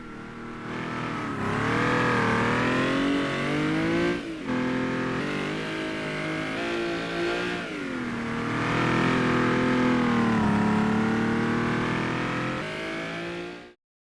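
A simulated race car in rFactor revs hard while drifting, its engine holding a loud, continuous high whine that rises and dips with throttle before cutting off abruptly at the end.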